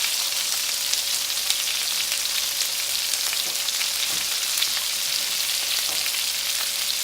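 Steady, crackling sizzle of chicken frying in a hot pan, continuous and close with no talking.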